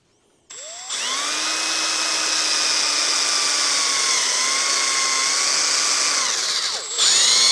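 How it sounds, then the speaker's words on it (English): A power drill bores a pilot hole for a screw in a custom European deer mount, one steady high whine that holds for about six seconds, loud and close, then winds down and stops. "First, I'm going to drill a pilot hole for one screw."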